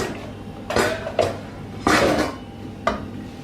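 A spoon knocks and scrapes inside a cooking pot of stewed kidney red beans. Four distinct clanks ring out at uneven intervals, close and fairly loud, with no talking.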